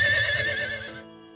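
A horse whinnies loudly and close, a bright, quavering neigh that fades out over about a second.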